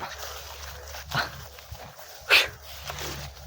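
A dog barks a couple of times at a distance, two short sharp yelps over faint outdoor background noise.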